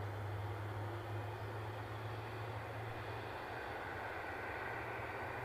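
An airplane taxis out at Edinburgh Airport, a low steady engine drone with a constant hum, faint and distant, heard alone without talk.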